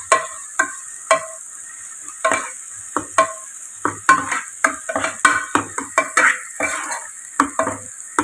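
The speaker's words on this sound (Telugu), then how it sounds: "ఇదిగోండి అల్లం వెల్లుల్లి పేస్ట్ కూడా వేగిపోయింది" Ginger garlic paste frying in a pan, with a continuous sizzle under repeated scraping and stirring strokes of a spatula against the metal, close and steady in rhythm, no talking.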